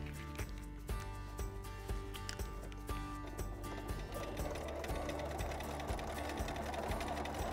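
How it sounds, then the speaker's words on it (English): A sewing machine stipples a quilted feathered heart, its needle chattering in a fast steady rhythm at low volume with a faint mechanical hum beneath. "let me show you how it's done on the sewing machine"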